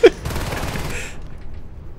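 Gunfire in the Natural Selection 2 video game on the Mineshaft map, a sharp initial shot followed by a rapid automatic burst that fades out over about a second, with faint voice sounds mixed in.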